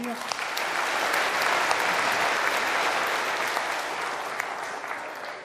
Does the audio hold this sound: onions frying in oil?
no